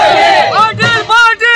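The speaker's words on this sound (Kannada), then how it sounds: "ಬಿಸಿ ಪಾಟೀಲ್ ಅವರಿಗೆ ಜೈಕಾರ ಹಾಕಲಾಗಿದೆ" Crowd chanting and cheering slogans for a BJP politician at an election campaign rally in Hirekerur village, with loud overlapping voices rising and falling in bursts.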